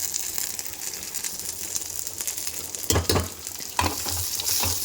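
Curry leaves crackle and sizzle in hot oil for a tempering, a steady frying hiss with a couple of sharper spattering bursts near the end, no voices present.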